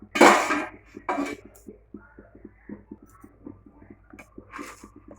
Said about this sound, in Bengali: ঢাকনাটা খুলে দেখি আমরা।